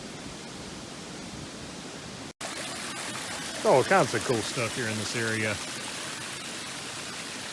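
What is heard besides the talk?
small waterfall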